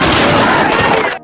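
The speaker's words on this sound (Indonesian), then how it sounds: "Akhirnya pas dipakai untuk menembak David, senjata itu meledak dan malah melukai dirinya sendiri." An old, ancient gun blows up as it is fired, a loud, dense blast and crash that fills the clip and then cuts off abruptly.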